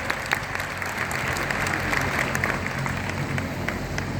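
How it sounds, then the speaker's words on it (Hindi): An audience at a large organized event claps for the organizing team, a dense sustained burst of applause from a crowd, steady and moderately loud throughout. "एक शानदार ताली आपको और आपकी पूरी टीम के लिए"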